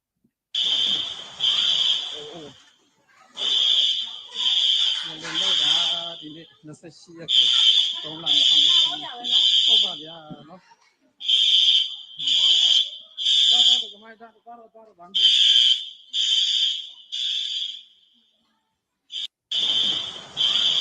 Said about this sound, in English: What is that, a fucking earthquake alarm?